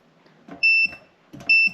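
Two short, sharp electronic beeps from a continuity tester checking a DIY metal electronic hi-hat, with quiet handling clicks and taps between them in a quiet room.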